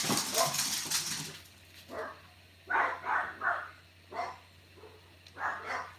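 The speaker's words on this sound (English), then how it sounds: "They'll bark, there's a wee dog out there." A small dog barks several times at a distance, short yappy barks with brief pauses between them, fairly faint and muffled as if outdoors.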